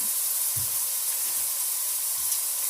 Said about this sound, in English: I'm going to add a tiny bit more oil to the pan, my pan of onions and garlic